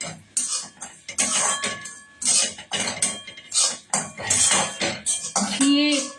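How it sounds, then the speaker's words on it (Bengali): A spoon stirs a ghee mixture in a pan for kheer patishapta, making loud, repeated scraping and clinking strokes of metal against the pan in an uneven rhythm, with no talking. "দেওয়ার সাথে সাথে আমি এটাকে নাড়তে শুরু করব"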